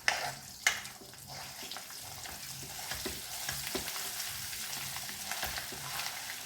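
Brinjal-potato curry frying in oil after garlic chutney goes in, a steady moderate sizzle with scattered stirring scrapes and a couple of sharp clinks near the start.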